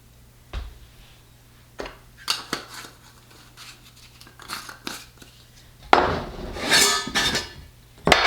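A spoon scoops espresso powder into a bowl, giving a few scattered light clinks and taps, then a louder cluster of scraping and clattering near the end, with no voices.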